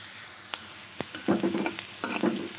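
Spices frying in oil for a mutton curry, a close crackling sizzle with sharp scraping stirs and spattering bursts, no voices.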